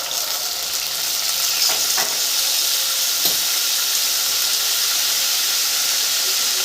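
Grated tomato fries in hot oil in a pan for a vegetarian stuffed pointed gourd dish with coconut milk, giving a loud, steady, close sizzle with a few faint stirring scrapes.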